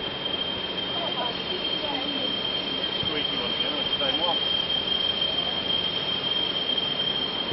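At a level crossing in Lincoln, train wheels squeal faintly and intermittently over a constant rumble of passing rail cars, with a steady high tone throughout and distant voices underneath.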